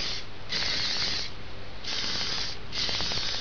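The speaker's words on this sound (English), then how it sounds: "I'm just going to spray my pigtails." Two rounds of hairspray spraying onto pigtails, each a pair of steady hissing bursts with a short pause between them.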